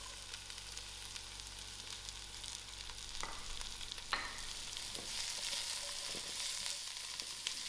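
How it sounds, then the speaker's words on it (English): Leeks and carrots fry in a pot for a creamy salmon soup, making a soft, steady sizzle with a few sharp clinks of stirring partway through and no voices. "I'm going to add my leeks along with my carrots."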